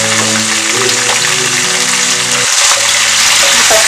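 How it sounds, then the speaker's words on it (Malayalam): Ginger fries with green chilies and curry leaves in a pan, giving a loud, close, continuous sizzle and crackle, with a steady tonal hum underneath. "പച്ചമുളകും കരിയേപ്പിലെ ഇട്ട് കൊടുത്ത് ഇഞ്ചി നന്നായിട്ട് ഒന്നുകൂടെ വറുത്തെടുക്കാം"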